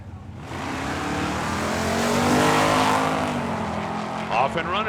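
Supercharged 427 and stroker 383 drag race cars launch and roar down the strip, a loud sustained engine howl building over about four seconds with a crowd and announcer voice in the background.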